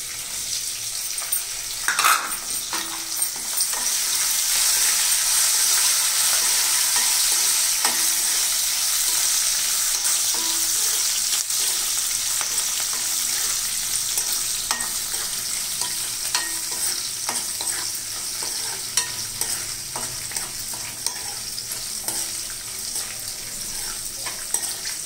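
Green chillies and curry leaves fry with a steady, loud sizzle in a pan for pumpkin curry, with repeated scraping stirs and occasional clinks running throughout, no voices.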